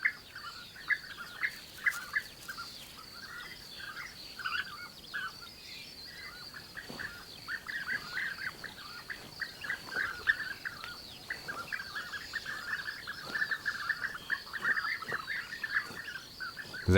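Bee-eaters call from their perches in a busy chorus of short rolling chirps and trills, many overlapping birds at moderate distance, continuing without pause and with no human voices.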